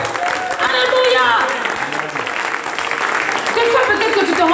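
Church congregation applauding, a steady wash of clapping hands under loud, enthusiastic voices, with a singer or speaker calling out over the crowd throughout.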